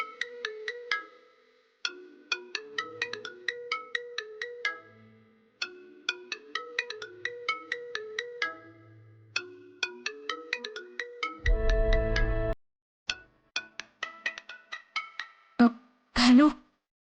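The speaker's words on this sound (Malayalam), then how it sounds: "കുറെ നേരമായല്ലോ നിനക്ക് കോള് വരുന്നു." A mobile phone ringtone for an incoming call plays a repeating melodic phrase over and over, fairly clear and close, with a brief burst of noise partway through and a short loud sound near the end.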